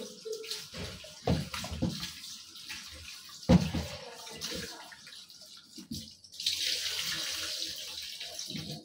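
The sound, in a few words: water running from tap while washing food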